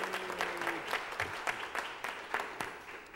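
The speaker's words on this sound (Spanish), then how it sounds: "para el cual pido un gran aplauso" Congregation applause during a Spanish-language Sunday church service, honoring the choir: a moderate, uneven patter of claps at medium distance, continuous for a few seconds and fading slightly at the end.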